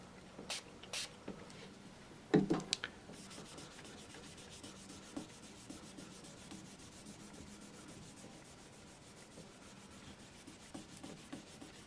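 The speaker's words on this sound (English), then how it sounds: "Just want to make sure that you rub it in properly." Steady soft rubbing as Jim Dunlop fingerboard cleaner is worked into a guitar fretboard by cloth, with a brief louder scuffing burst early on and faint, close, continuous friction.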